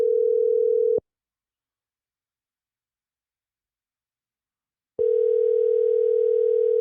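A telephone ringback tone sounds close and clear: a one-second steady beep, four seconds of silence, then the beep starts again.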